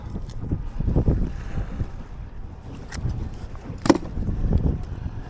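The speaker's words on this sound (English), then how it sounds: "it's still just so windy and rough" Strong, rough wind gusts roar across the microphone on a beach during kayak fishing off Lauderdale, with low rumbling buffeting and a sharper gust burst near the end, no speech.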